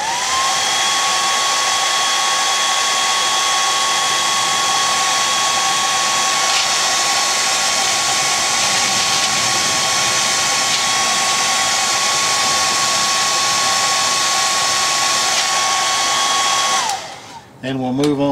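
A heat gun blows steadily and loudly up close while heat-setting paint dots on a fishing lure, a constant airy whine that shuts off abruptly at the end.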